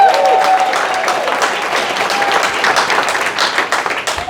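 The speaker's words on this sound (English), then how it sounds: "give it up for yourselves for being such a great crowd." An audience at a comedy show claps and cheers for several seconds in a broad, loud wash of applause that stays steady and then thins out slightly.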